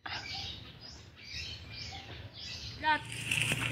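Pigeons with a young one give faint, soft chirping calls close by, under a low background hum, while a person speaks.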